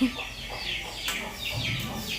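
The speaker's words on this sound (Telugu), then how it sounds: "అది మా కోడి" A chicken clucks several times nearby in short, repeated bursts over a steady outdoor background.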